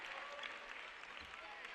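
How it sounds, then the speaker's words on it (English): Applause from the home crowd at the Lumpkin Center as basketball players head to the bench during a men's game against Flagler, a steady brief wash of clapping with crowd noise. "to give them a round of applause as they hit the bench"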